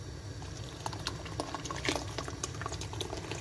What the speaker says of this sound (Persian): آب بریزید و روی شعله قرار بدید تا آب کاملا به جوش بیاد